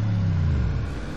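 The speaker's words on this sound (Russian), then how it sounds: "Отсечка просто тупо ловится вообще." A car engine held at high revs while trying to tow with a tow rope, droning loudly and steadily, then stuttering and dipping slightly as it bounces against the rev limiter.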